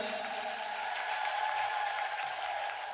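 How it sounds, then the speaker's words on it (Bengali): An audience at a Bhagavat recitation claps together in sustained, dense applause, loud and close and continuous for the whole stretch, with no talk over it. "তাদের জন্য একটু করতালি দেন।"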